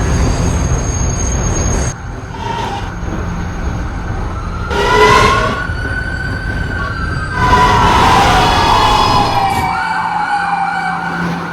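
A subway local train runs between stations with a loud, steady rumble and the roar of wheels on rails. Rising squeals and whines sweep over the noise near the middle, and there is no talking.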